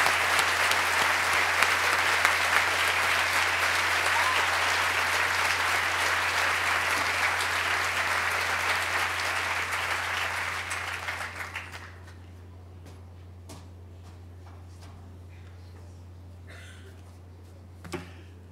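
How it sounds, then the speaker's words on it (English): Sustained applause from a university audience at a gift announcement honoring Bill Dietrich, loud and even for about twelve seconds before fading out, leaving a quiet room with a low steady hum and a few stray sounds. "Let's give him a round of applause."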